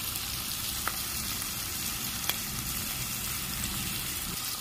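Onions fry in oil for mutton curry, giving off a close, steady sizzle with a couple of small pops and crackles rising out of the constant hiss.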